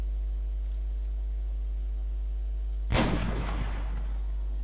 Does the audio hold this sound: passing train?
no